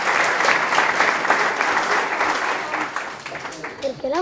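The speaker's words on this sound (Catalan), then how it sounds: "Un aplaudiment per a la gent gran" An audience claps steadily at the presentation of 180 Campanades in l'Ampolla, a sustained round of applause from a crowd with voices audible as it tapers off toward the end.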